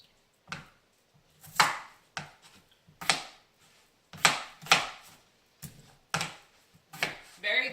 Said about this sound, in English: Now, my red potato, I'm just cubing it up, just like the rest.